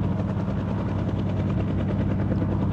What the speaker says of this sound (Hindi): मैं कोशिश करता हूँ एक बार तो अपने हेलीकॉप्टर को फुल स्पीड में रखता हूँ